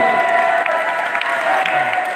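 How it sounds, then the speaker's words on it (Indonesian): An audience applauds at a school sharing session on sustainable living and waste management. Dense, steady clapping fills the whole moment, with some voices and crowd noise mixed in. "Tepuk tangan dulu"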